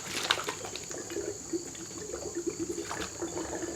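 Water swirls in a tornado vortex as it drains from one plastic bottle into another in a home science experiment, a soft, steady trickling gurgle close up with no voices.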